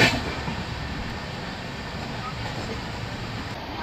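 The Samta Express rolls along between Kottavalasa and Simhachalam North, a steady broad rumble and rush of wheels and wind heard from onboard, continuous and even throughout.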